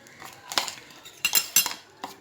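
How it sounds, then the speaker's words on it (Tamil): Three eggs are whisked in a bowl with a utensil, heard as a few quick bursts of clinking and scraping against the bowl separated by short pauses. "3 எக் போட்டு நல்லா மிக்ஸ் பண்ணிக்கணும்"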